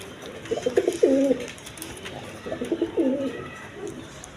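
Pigeons coo in a few repeated bursts, close and clear, at a seller's stall where pigeons are sold with their eggs and chicks, with faint background noise between the calls.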